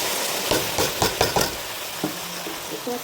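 Chopped onions and home-raised duck meat fry in a pan, with a steady sizzle broken by several clattering stirring scrapes of a spoon against the metal.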